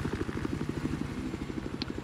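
A helicopter flies in the video game Battlefield 4, a steady rapid rotor chop with a whirring engine drone, moderately loud and continuous.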